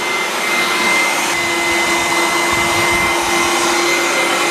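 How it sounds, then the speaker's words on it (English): A vacuum cleaner runs loudly and continuously for the whole stretch, a steady whine with a constant hum, used to remove old insulation from a living room window frame during a home restoration. "So it may be hard for you to hear with the vacuum running"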